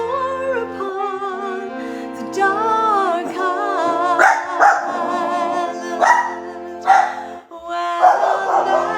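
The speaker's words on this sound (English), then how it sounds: "these dogs." Several dogs barking, yipping and howling together in a loud, overlapping chorus with a melodic, almost singing quality, continuous through the whole stretch, close by.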